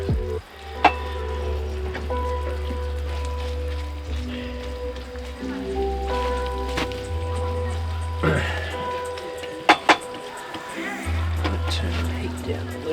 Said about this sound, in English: I'm just going to put the sauce in. And in goes the vegetables.